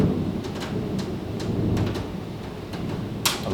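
Steady rain falls with a low rumble of thunder underneath, broken by a few sharp crackling drips or taps nearby and one brighter burst near the end, with no voices.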